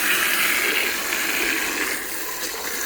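Tap water runs steadily into a sink as small bird dishes are rinsed, a continuous close hiss and splash with no talking.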